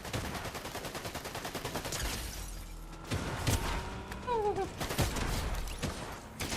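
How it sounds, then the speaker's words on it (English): Rapid bursts of gunfire in the Fortnite video game, crackling in quick volleys for the first two seconds, then scattered single shots and short bursts over ongoing game sounds. "Graham Cracker Monster is shooting at me"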